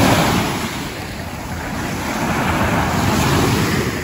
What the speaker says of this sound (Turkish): Biraz dalga sesleriyle sizi baş başa bırakayım, sonra biz gidelim.